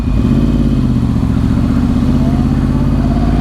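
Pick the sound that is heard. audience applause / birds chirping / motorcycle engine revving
motorcycle engine revving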